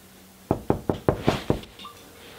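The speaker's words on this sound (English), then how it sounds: "Better answer the door then" Six sharp, evenly spaced knocks on a door ring out close and loud, a steady rhythm lasting about a second, followed by quiet room tone.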